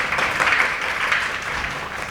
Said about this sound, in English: Well, give a round of applause.